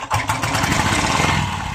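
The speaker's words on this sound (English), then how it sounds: "there's the motorbike" Collectable historic motorcycle kick-started, its engine coughing to life and settling into a rough, rumbling idle, loud and close.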